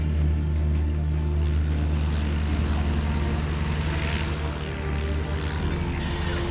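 Steady drone of a light propeller aircraft in flight over the English coast near Hastings, a continuous loud engine hum with low tonal harmonics and no voices.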